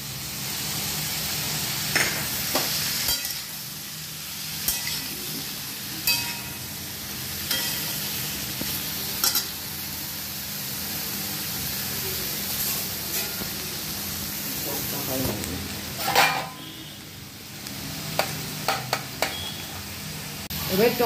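Ginger paste and spices sizzling in a pan while cooking Bengali fish curry, a soft steady frying hiss with occasional stirring scrapes and clinks throughout.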